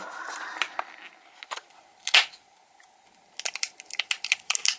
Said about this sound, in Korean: 힘을 줘서 눌러서 까야 됩니다